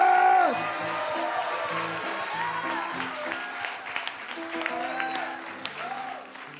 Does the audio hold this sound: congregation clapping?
yes